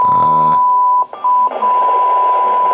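A TYT TH-7800 radio receiver picks up a signal: a steady electronic tone under receiver noise, briefly interrupted by short dropouts before continuing with hiss.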